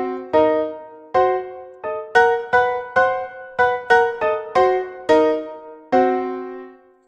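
Single notes on a MIDI keyboard step through a custom 3-6-6-3 scale, each tone struck cleanly and decaying, about a dozen notes in a measured, slightly uneven rhythm, close and alone.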